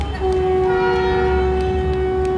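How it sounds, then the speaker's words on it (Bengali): The Kanchanjunga Express sounds a long, steady horn blast as it enters the station platform. The tone stays loud and unbroken over a low rumble of the train throughout. "আমার ট্রেন কাঞ্চনজঙ্ঘা এক্সপ্রেস দু নম্বর প্ল্যাটফর্মে প্রবেশ করতে লাগলো"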